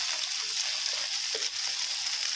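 Oyster batter frying in a pan, a continuous loud hiss and crackle of sizzling oil, close up and steady with no voices.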